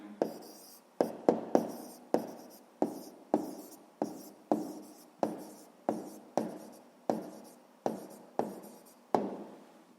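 Pen on paper writes out a sixth-grade maths answer, in about fifteen short scratching strokes at an even pace, close up and alone.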